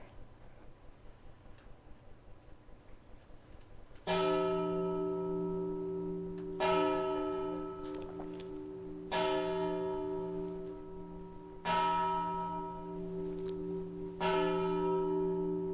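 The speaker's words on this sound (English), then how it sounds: "we're going to play a little clip of a bell" A faint ticking gives way to five slow, resonant strikes of a medieval church bell, each ringing out and decaying before the next, with no talking.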